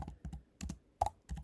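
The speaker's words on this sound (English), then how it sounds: "Sorry, my typing" Someone types on a computer keyboard in quick, uneven bursts of close, crisp key clicks, with short gaps between clusters and no talking.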